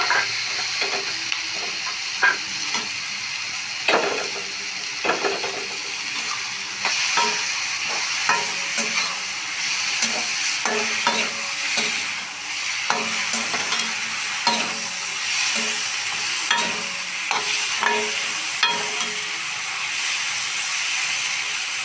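Mint and coriander leaves sauté in a pan with a continuous sizzle, and a spoon scrapes and stirs it in irregular knocks at close range with no talk.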